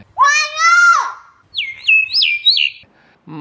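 A common myna calls loudly and close by: two long, harmonic, whistled notes, then a quick series of sharp, rising and falling chirps, with a short soft note at the end.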